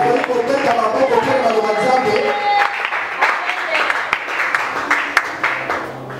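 Sunday service congregation in a church applauding: dense, sustained clapping and cheering rising after a loud voice speaks over it, lively and close, filling the room for several seconds.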